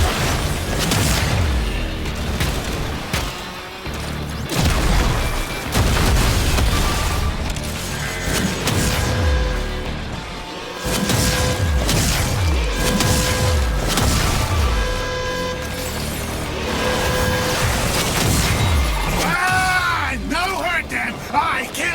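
Gunfire, booms and crashing effects from shooting spores off a contaminated scrubber in Warframe, a dense, loud barrage of repeated blasts and impacts throughout, with game voice chatter mixed in.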